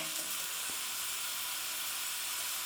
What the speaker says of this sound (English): let them sizzle away on a medium heat